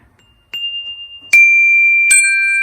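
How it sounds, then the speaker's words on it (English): Solid metal chimes from a physics acoustics kit, struck with a small striker: three separate strikes, each ringing out as a clear, sustained pure tone, bright and close, the later ones louder and overlapping. "it comes with the chimes and then the little striker"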